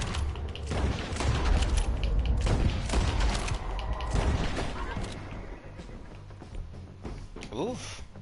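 Rapid gunfire volleys from a Red Dead Redemption 2 shootout crackle through the first half, mixed with shouting voices and busy game effects.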